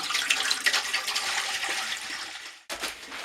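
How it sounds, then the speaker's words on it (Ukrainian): Clean water poured into a container at home, a bright, splashing gush that runs steadily for a couple of seconds, briefly stops, then resumes; close and fairly loud. "У будь-яку підходящу ємність наливаємо чисту воду"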